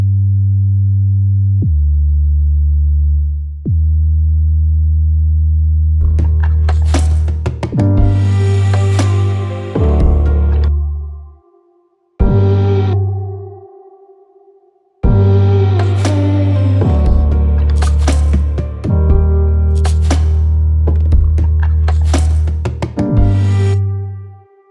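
A deep 808 bass synthesizer line plays sustained, booming low notes, with brief stops, while drums and other synth layers come in over it partway through.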